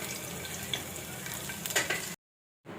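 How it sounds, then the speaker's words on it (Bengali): Chopped garlic fries in a pan with a steady, close crackling sizzle and a few stirring scrapes, then cuts to silence for a moment before resuming; no voices. "দিচ্ছি একটু রসুন কুচি"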